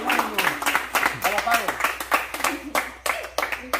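People clap by hand at a birthday serenade. Uneven bursts of clapping come through while voices talk and call out loudly over them at close range.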